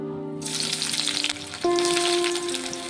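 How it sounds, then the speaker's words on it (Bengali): Chopped onion frying in oil in a wok, a bright continuous sizzle that jumps louder midway as the onion hits the oil, with a steady hum underneath. "পেঁয়াজটিকে একটু ভেজে নেব।"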